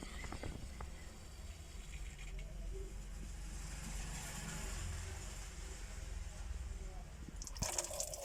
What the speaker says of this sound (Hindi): इसके अंदर जो है वो राड में पानी भरना स्टार्ट हो जाएगा।